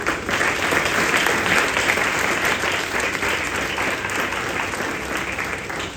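Steady, loud applause from a church congregation at a Sunday sermon service, many hands clapping together without pause for the whole stretch, slightly tapering near the end, with no speech over it.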